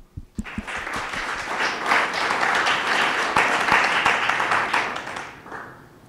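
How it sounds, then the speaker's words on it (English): A crowd applauds loudly and steadily for several seconds, dense clapping that swells quickly and then slowly tapers off. "Let's give them a big round of applause."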